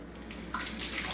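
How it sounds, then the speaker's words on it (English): Cold water gushes from a kitchen tap over a pot of freshly cooked jumbo shrimp, a close, steady hissing splash that swells louder partway through, with no talk over it. "Run it under some cold water."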